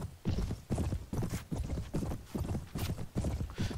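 Horse hooves clip-clop in a Mount & Blade battle, a steady run of heavy thuds at roughly two per second, close and loud, with no voices over them.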